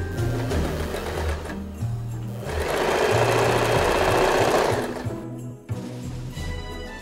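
A sewing machine stitches the side seams of a dress, running in a steady close mechanical whir that rises into a faster, louder burst midway, then slows and continues, with no voices over it.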